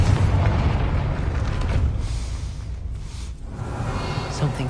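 A Confringo fire spell explodes in the Hogwarts Legacy game, a loud deep rumbling boom that rolls on for several seconds with a whooshing tail.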